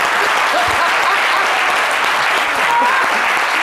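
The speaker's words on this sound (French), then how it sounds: "applaudissez-vous, monsieur." An audience at a live comedy show applauds, a dense, loud and continuous burst of clapping that fills the whole stretch without letting up.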